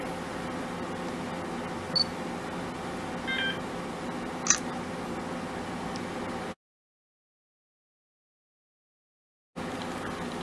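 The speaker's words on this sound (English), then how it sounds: "looked like I had the self timer on" Panasonic Lumix DC ZS80 compact camera self-timer giving a few brief, faint electronic beeps over a steady background hiss, followed by a short stretch of silence.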